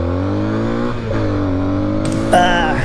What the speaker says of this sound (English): The Honda ST1300 packs a punch with its V4 engine.